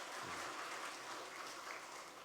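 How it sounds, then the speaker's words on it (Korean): A church congregation applauds steadily during a Sunday morning service, a dense, even wash of clapping that carries through without a break. "우리 좋은 찬양 내주신 하나님께 영광의 박수 한번 하겠습니다."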